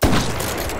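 A single pump shotgun blast in a video game, a loud close boom at the start with a short tail of noise behind it.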